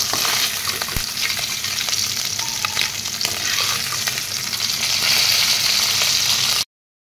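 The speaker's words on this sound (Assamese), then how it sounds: "সেই কেৰাহীটোতে আৰু অলপ তেল দি দিলোঁ, তাৰপিছত ইয়াতে এতিয়া মাছখিনি দি দিছোঁ" Oil sizzles and crackles steadily as fish fries in a kadai, a dense hiss broken by occasional clinks, then cutting off abruptly.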